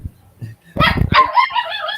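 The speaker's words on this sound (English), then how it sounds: "That's our dog." A pet dog barks and yips a few times close by, short sharp calls ending in a whimpering whine, with a voice briefly nearby.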